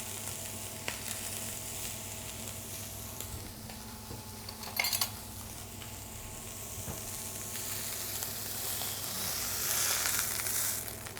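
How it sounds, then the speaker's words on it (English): Lamb searing in a hot pan for lamb Wellington, a loud continuous sizzle with occasional pan clatter and scraping, swelling slightly louder toward the end. "Add my lamb to that pan."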